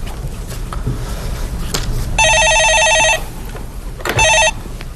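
A telephone bell rings for an incoming call-in caller on a Korean stock-market phone-in show, with a loud electronic double ring burst followed by a shorter second burst over a steady background hum.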